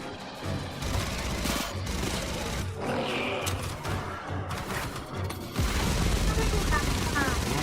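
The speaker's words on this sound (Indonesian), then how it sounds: "Tembak-tembakan monster." Loud, dense bursts of gunfire and booming blasts mixed with roaring monster sounds from the game Aliens: Fireteam Elite, continuous and intense throughout.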